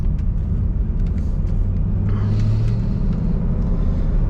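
Car driving in second gear at about quarter throttle, with a loud, steady low engine rumble and drone filling the cabin without a break, no voices.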